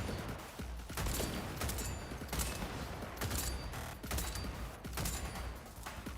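Bursts of gunfire in the video game Cyberpunk, a run of sharp shots spaced roughly half a second to a second apart over a busy mechanical din, fairly faint and without speech.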